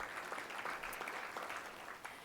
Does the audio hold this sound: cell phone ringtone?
no